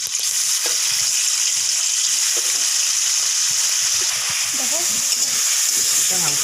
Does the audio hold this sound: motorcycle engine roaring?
no